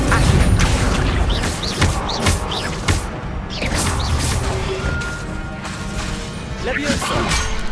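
The Incendio fire spell being cast in a Hogwarts video game, heard as a run of whooshes, loud crashes and booming impacts repeating over several seconds, close and forceful.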